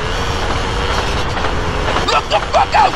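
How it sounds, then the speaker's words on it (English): A train rumbles past in the game GTA San Andreas, a loud continuous mechanical roar with rising tonal sweeps near the end, while game voices speak over it. "Look the fuck out, CJ, the train."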